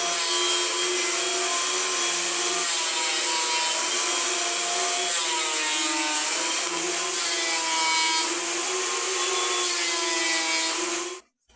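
A freshly tuned Craftsman 12.5-inch benchtop planer with new knives feeds a small piece of oak, giving a steady, loud, high whining machine roar with a rising and falling cutting pitch that runs continuously, then cuts off abruptly at the end.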